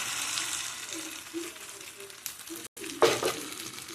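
Pancake batter frying on a large non-stick pan over low heat, a quiet continuous sizzle with a few spatula scrapes and a brief louder stir near the end, with a voice faintly in the background.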